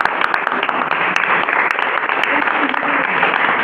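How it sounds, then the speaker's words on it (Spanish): Loud, dense applause from an audience welcoming a guest speaker, a law graduate invited onto a podcast about commercial law, sustained and steady throughout with sharp individual claps standing out above the wash. "pido un fuerte aplauso, por favor"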